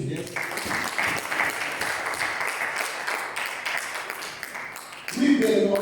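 A church congregation claps and cheers for Jesus in a sustained, dense wash of applause, with a voice rising loudly over it near the end.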